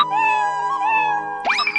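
A cat gives a long, tonal meow that wavers in pitch, close and clear, ending with a short rising squeak.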